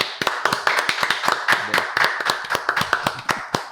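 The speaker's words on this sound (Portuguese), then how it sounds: "uma salva de palmas para ele" Sharp, close hand claps in a rhythmic series, a small group applauding a podcast guest, loud and crisp with no talk over them.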